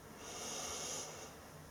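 A single long inhaled breath during a guided mantra meditation, drawn in steadily for about a second as an airy hiss and then fading, close and soft with no talking.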